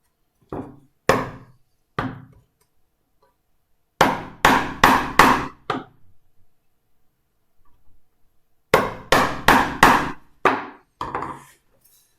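Sharp wooden taps on a toy train part in a workshop, struck in two quick bursts of several knocks with short pauses between, crisp and close with no talking.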